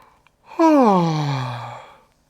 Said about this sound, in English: If you like to yawn, yawn.